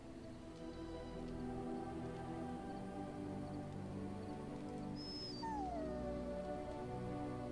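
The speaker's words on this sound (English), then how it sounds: "Don't be mean to my puppy, Morgan." A dog in the Dragon Age: Origins video game whimpers and lets out a falling, thin howl over a steady, dense game soundscape with soft rain-like hiss, faint and somewhat buried in the mix.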